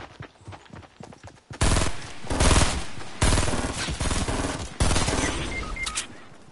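Gunfire in the video game Fortnite, several loud bursts of rapid shots starting about a third of the way in and repeating in close clusters, with brief gaps between volleys.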